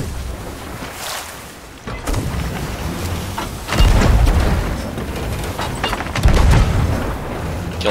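Cannons fire at a brigantine ship in the Sea of Thieves pirate game: several heavy booms land at irregular intervals over sloshing sea ambience, with no talk.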